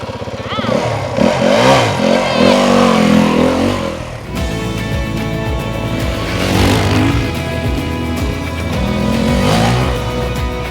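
Yamaha WR250 off-road motorcycle engine revving close by on a Spanish motocross track, a loud rising and falling mid-pitched engine roar throughout, with people talking over it.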